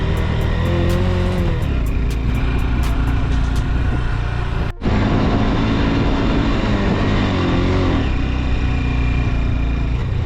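A Honda CB200X motorcycle climbs a high Ladakh mountain road in first gear, its engine droning steadily and loudly close by, with a brief dropout partway through and no talking.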